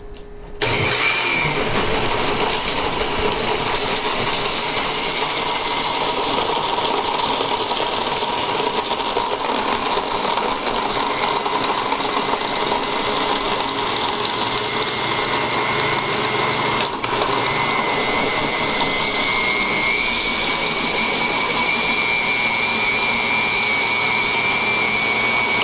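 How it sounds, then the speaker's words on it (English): A blender runs steadily through a thick green smoothie mix, a loud continuous motor whir with a grinding texture that holds from start to finish with no talking. "So all we're gonna do now is blend this up"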